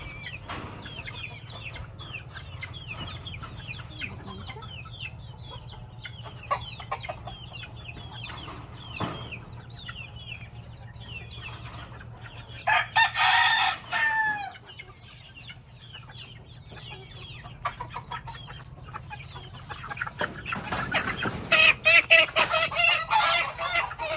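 Purebred White Kelso chickens cluck repeatedly in a backyard breeding pen, with a rooster crowing loudly nearby in two bursts partway through and again near the end, over a low steady background hum.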